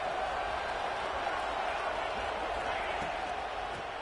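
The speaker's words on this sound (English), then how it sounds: "And the crowd really making some noise now, trying to help out this defense to get this stop near the goal line." Football stadium crowd roaring during a playoff game between Oregon and USC as the defense tries for a goal-line stop, a dense sustained wall of cheering with a broadcast voice talking over it.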